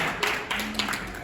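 A conference crowd at an entrepreneurship summit magic performance breaks into brief applause, a short burst of close, crisp hand claps with a few sharper accents.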